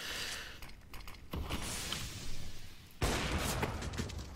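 Gunfire during a competitive CS:GO match, several scattered shots and short bursts with abrupt loud onsets, set against game noise and with no voices over it.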